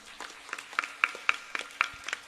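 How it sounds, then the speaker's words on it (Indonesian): An audience at an Islamic pengajian gathering claps in a slow, steady rhythm, about eight distinct hand claps spaced evenly, moderately near and not very loud. "Tepuk tangan."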